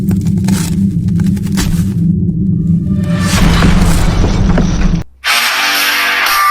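A bomb explosion: a sustained, heavy low rumble that swells and churns for several seconds before cutting out abruptly, followed by a brighter hissing, crackling wash of debris-like noise.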